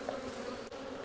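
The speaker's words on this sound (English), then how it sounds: "Starting to break these bees down." Honey bees buzz steadily inside a hive box being split on a farm, a close, continuous hum with one brief dip in the middle.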